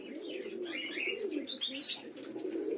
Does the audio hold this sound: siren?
no